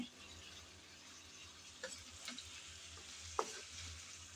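Drumsticks and tomatoes stir-fry in a pan, giving a soft continuous sizzle with a few faint scrapes and taps of a spatula, fairly quiet and steady with no talking.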